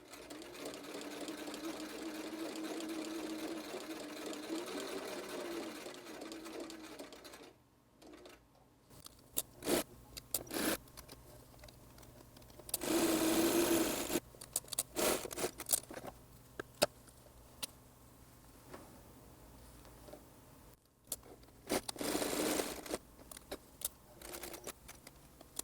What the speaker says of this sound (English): now you're ready to sew your Velcro on